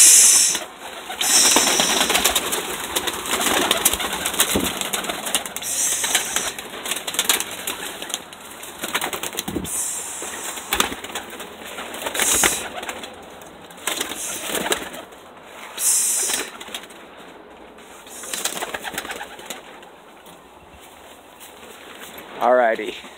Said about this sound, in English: We're just gonna fly the birds this morning.